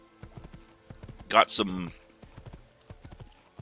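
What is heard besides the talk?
horse hooves clip-clopping in Assassin's Creed video game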